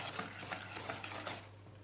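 Semolina and flour batter being stirred in a pot, with a soft, steady scraping and swishing that keeps a fairly even rhythm and sits close and moderately quiet.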